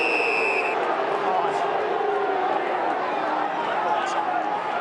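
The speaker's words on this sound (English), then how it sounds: "Crowd again voicing their disgust." A football crowd at an AFL match between Fremantle Dockers and Carlton voices its disgust. The loud, continuous roar of the crowd fills the stadium while a commentator talks over it.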